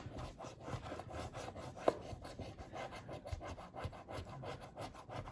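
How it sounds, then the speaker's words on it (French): A scratch card is scratched letter by letter, producing quick repeated rasping strokes in a steady rhythm, close and fairly quiet, with one sharper scrape partway through. "on gratte tout, on gratte lettre par lettre"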